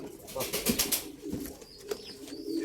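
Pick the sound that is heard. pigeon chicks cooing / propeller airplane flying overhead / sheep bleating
pigeon chicks cooing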